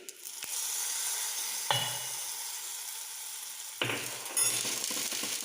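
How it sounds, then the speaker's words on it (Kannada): Tempering sizzles in hot oil in a home kitchen while kanchikayi sasive, a mustard-based citrus dish, is made: a steady close frying hiss with sharp bursts of crackling as items drop into the pan. "ಇವಾಗ ಇದಕ್ಕೊಂದು ಒಗ್ಗರಣೆಯನ್ನು ಕೊಡಬೇಕು"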